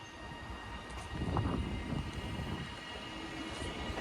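Class 397 unit 397 001 pulling out of Manchester Piccadilly, a low rumbling departure that swells briefly then holds steady at a moderate distance amid station ambience.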